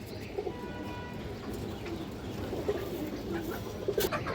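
Pigeons from a fancier's flock keep up a low, overlapping cooing nearby, a steady murmur with a few slightly louder calls toward the end.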